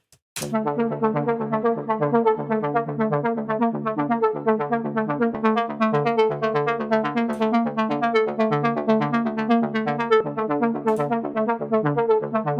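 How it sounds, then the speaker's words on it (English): A bright synth with reverb and delay plays a fast, continuous pattern of notes with a washy, echoing tail, steady and fairly loud throughout, no voices. "We're going to add some reverb and delay"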